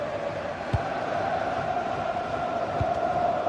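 Football stadium crowd in a video game match, a steady, distant roar of fans chanting with a hum, holding at a constant level and broken by two low thumps.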